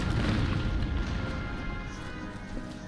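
Foot artillery in a Total War historical battle at Lodi, firing on enemy entrenched in a town: a dense, continuous low rumble of cannon booms and battlefield din, steady and loud throughout with no clear separate shots.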